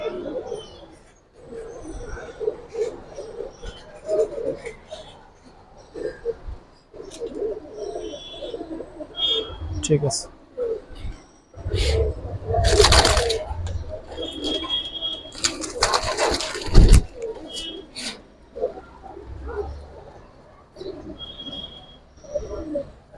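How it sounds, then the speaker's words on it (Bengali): Young Giribaz pigeons coo in a loft, low soft burbling calls repeating through the scene alongside wing flaps and handling noises, with someone talking intermittently nearby. "এগুলো এক পাঠা কবুতর"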